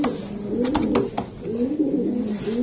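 Racing pigeons kept for sale coo repeatedly nearby, soft throaty rolling calls in a steady rhythm with a few sharp clicks or wing flaps in between.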